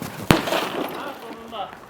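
A sledgehammer smashes the glass of a car window with one sharp, loud crack close by, followed by scattered debris and voices talking in the background.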